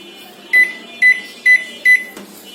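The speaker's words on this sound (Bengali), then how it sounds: "এখন আমরা এটা মাইক্রোওভেনে বেকে দিব" Microwave oven running with a cake baking inside, giving four evenly spaced short electronic beeps over a steady low hum, close and fairly loud with no talking.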